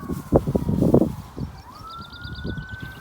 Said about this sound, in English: Sorry about the sirens in the distance there.